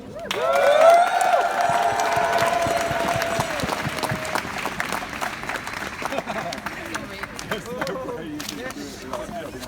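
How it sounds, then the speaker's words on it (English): Crowd applause at an outdoor Extinction Rebellion protest on migrant and climate justice, sustained clapping with some cheering, while a voice speaks over the start. "So we all give a round of applause."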